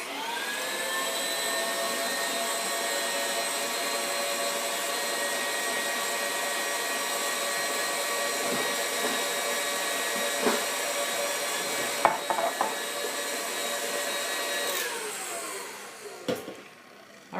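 Electric stand mixer beating stiff cookie dough for nutty cookie squares, a steady loud whine with harmonic hum running nearly the whole time, a few clunks near the end as it winds down.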